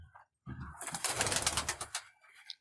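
A short, close burst of pigeon cooing rises from near silence in a loft, with a possible flutter of wings, then fades to a faint final note.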